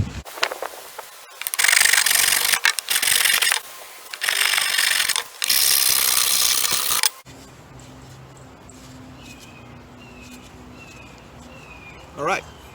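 A hand rasp shaping a rattan sword handle gives several loud, broad rasping strokes in separate bursts, then stops; quieter background noise follows, with a faint brief knock near the end.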